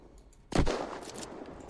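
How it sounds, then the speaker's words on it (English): A single sharp gunshot rings out in a role-play video game set at a border patrol post, followed by a short decaying tail, fairly close and heard alone without speech. "He was just shooting at us."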